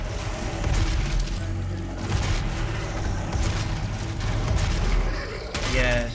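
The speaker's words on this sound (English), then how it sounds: "I guess I'm switching to my shotgun" Shotgun blasts and gunfire from the DOOM video game, heavy booming shots with mechanical clatter repeating over several seconds, loud and close, with game noise throughout.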